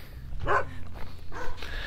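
A single dog bark, fairly close and short, followed by a fainter second yelp against low background rumble.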